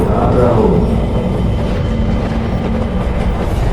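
A moving train clatters along its rails in a steady, continuous rumble with faint rhythmic clicking, loud and close throughout, as in a cartoon horror scene; no talk over it.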